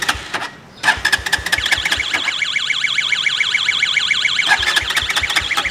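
A motorcycle engine cranks and catches amid sharp clicks, then runs in a pulsing, wavering idle close by before more clattering starts near the end.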